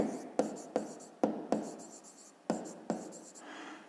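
A pen writes by hand on paper during a fifth-grade maths exercise, with about seven sharp, close strokes and scratches spaced in an uneven rhythm.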